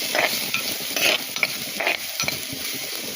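Chopped onions and green chillies frying in oil in a pan, a close, continuous sizzle broken by repeated scrapes of a spatula as they are stirred.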